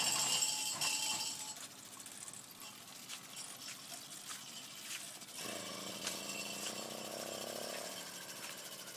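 A Roadmaster Rat motorized bicycle engine runs with the gas on as the bike rides off, a faint rattling putter that stays fairly steady against outdoor background noise and never becomes loud or close.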